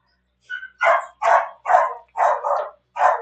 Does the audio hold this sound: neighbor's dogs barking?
yes